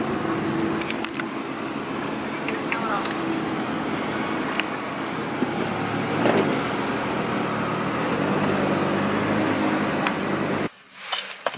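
Inside a Mitsubishi Evo on the road, a steady engine and road rumble with tyre and traffic noise runs throughout, with small clicks and rattles, before cutting to near silence at the end.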